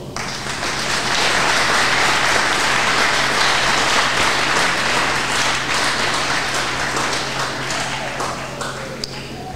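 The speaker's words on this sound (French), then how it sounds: "Moi, je vous demande d'applaudir plus fort." A packed hall at a philosophy lecture keeps up loud, continuous applause, with many overlapping claps forming a steady roar that holds for several seconds before easing slightly near the end.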